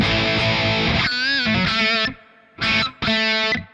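Electric guitar chords through a Mesa Dual Rectifier tone on a GP-5/GP50 processor ring out with a washy reverb tail, played in several bursts with brief gaps of fading echo between them.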